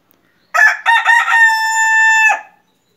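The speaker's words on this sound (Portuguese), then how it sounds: "Hoje eu vou mostrar para você aqui um galo polonês cantando." A Polish-breed rooster kept in an aviary crows once, loud and close, opening with a few rough broken notes and then holding a long, clear sustained tone before cutting off.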